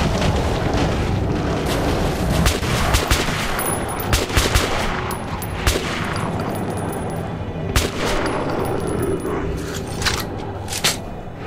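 Heavy gunfire in the Metro Last Light video game on Ranger Hardcore difficulty: rapid, loud bursts and single cracks follow one another almost without pause, with heavy booms mixed in.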